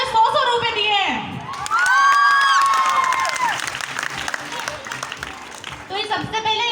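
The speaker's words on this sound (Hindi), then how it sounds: "तो एक बार जोरदार तालियां उन सभी लड़कियों" Loud college crowd applause mixed with cheering and high shrill shouts and whoops from young people, with voices talking over parts of it.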